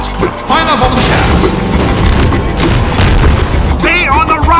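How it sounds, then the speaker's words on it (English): A cannon fires in Half-Life 2 with a loud, deep boom, and character voices and game sounds carry on around it. "Fire up on the cannon!"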